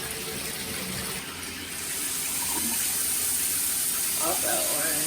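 A shower runs in a log cabin, its water hissing and splashing in a steady stream that grows slightly fuller after a brief dip.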